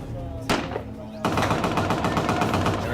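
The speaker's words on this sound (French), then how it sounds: "Les tirs des talibans trahissent leur position." Gunfire from Taliban fighters during a military operation: a single sharp shot, then a dense rapid automatic burst of rounds, loud and close, with a voice speaking over it.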